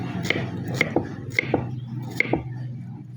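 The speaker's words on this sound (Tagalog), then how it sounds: "Sibuyas kabayan." Onions being chopped with a knife on a cutting board, about six sharp evenly spaced knocks close to the microphone, each with a brief crisp crunch.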